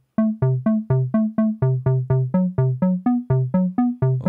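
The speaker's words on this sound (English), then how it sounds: "Now let's go to the bass, which sounds like this." A synth bass plays a steady run of short plucked notes, about four per second, punchy and close, with no other sounds around it.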